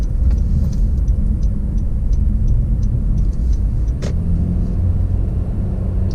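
Interior of a Honda Accord with a CVT accelerating to merge onto a highway: a steady, loud low rumble of engine and road noise with no distinct gear shifts, one brief higher tick near the middle.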